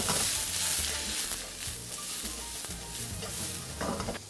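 Zucchini, red cabbage and other mixed vegetables sizzle and fry in a pan while being stirred, a continuous close, fairly loud crackle with scraping stirs and no talking.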